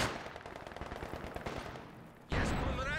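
A Maxim machine gun fires in Company of Heroes 2, a rapid stream of rattling shots at a steady pace, followed by a sudden louder burst of battle noise.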